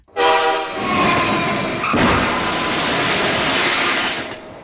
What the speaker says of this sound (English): Here comes a big old freight train